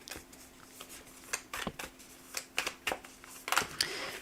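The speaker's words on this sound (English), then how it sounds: "I'm shuffling these cards" Tarot cards are shuffled by hand in a quiet room, giving a series of short papery riffles and slaps that grow denser and louder toward the end, over a faint steady hum.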